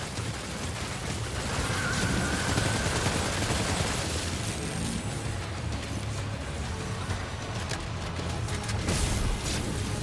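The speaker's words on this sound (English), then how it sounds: "Opening fire now." Sustained gunfire in the video game Death Stranding 2, with dense continuous bursts under a roaring, rumbling battle mix that stays loud and unbroken throughout.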